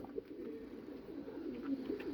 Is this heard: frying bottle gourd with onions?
no